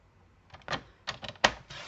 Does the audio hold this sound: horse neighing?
no